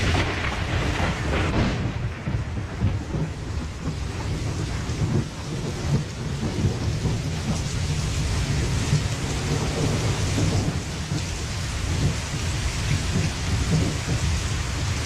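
Heavy rain pours steadily with rolling thunder, a dense continuous downpour and low rumbling that stays loud and even throughout, with no voices.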